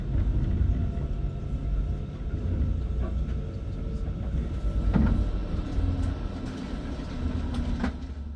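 A train runs steadily with a continuous low rumble and occasional clanks and squeals from the cars, fairly close and loud, with no talking.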